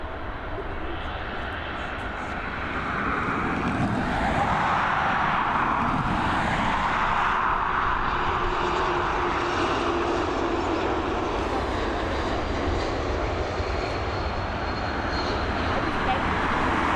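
KLM Cityhopper airliner arriving at Dublin Airport, its engine noise swelling into a steady, moderately loud jet roar that holds through the span, with talk underneath.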